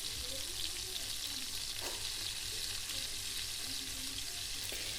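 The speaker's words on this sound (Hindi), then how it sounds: "सबसे पहले मैंने प्याज लिए हैं और उनको फ्राई करना स्टार्ट कर दिया है" Onions fry in oil in a pan with a constant close sizzle and the occasional scrape of stirring, with no talking.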